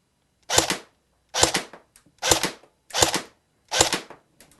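A Cybergun AK47 Kalashnikov airsoft electric rifle fires five sharp single shots at a target, evenly spaced under a second apart, each a crisp close crack with a brief tail and near silence between.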